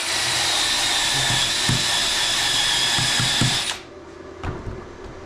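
Arccaptain MIG130 MIG welder laying a straight bead: a loud, steady crackling hiss lasting about three and a half seconds, then cutting off abruptly into quiet with a few faint knocks.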